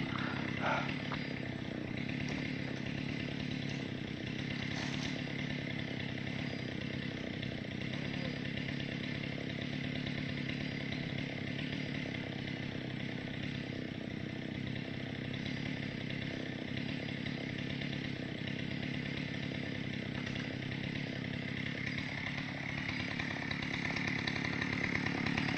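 Chainsaw cutting into a felled red oak, engine buzzing in one long steady drone at a moderate distance, continuous and unbroken with no voices over it.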